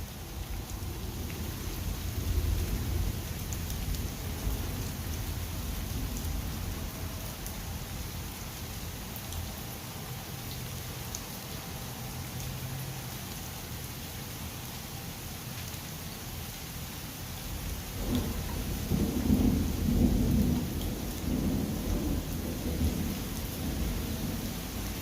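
Steady rain falls during a storm at an outdoor tailgate in Texas, with low rumbles of thunder rolling underneath and a stronger thunder roll near the end, heard alone without talk.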